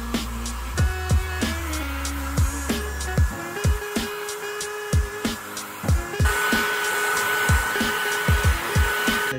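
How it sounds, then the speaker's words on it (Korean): A hair dryer blows steadily throughout, a constant airy whir, with repeated soft knocks and brushing sounds of short straight hair being shaped after hairspray nearby. "이제 스프레이를 전체적으로 뿌려주신 다음에 드라이기로 말리면서"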